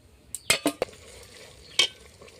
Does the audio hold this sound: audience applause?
no